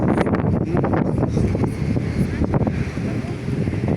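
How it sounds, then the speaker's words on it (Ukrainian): Gusty cold wind buffets the microphone with a loud low roar, a voice partly audible beneath it. "Вітер такий холодненький"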